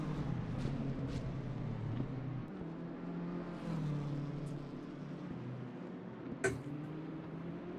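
Race cars from a sim racing game circulate at Bathurst through the Esses past Skyline, a steady layered engine drone with shifting pitch held throughout at moderate level, and a brief sharper burst near the end.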